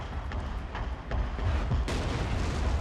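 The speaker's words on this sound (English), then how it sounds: "This is not my artillery, this is the naval bombardment." Naval bombardment in the video game Fall of the Samurai rumbles as a series of heavy, distant booms and thuds layered over continuous battle noise, with a sharper blast near the end and no voices.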